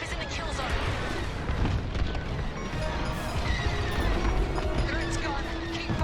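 A mine detonates in a starfighter dogfight in Star Wars: Squadrons, a dense roar of blasts and crashing booms filling the whole stretch at steady loudness, with voices talking over the combat.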